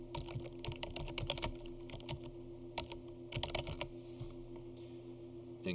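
Rapid clicking keystrokes on a computer keyboard, steady and close with brief flurries and short pauses, no talk over it, above a constant low electrical hum.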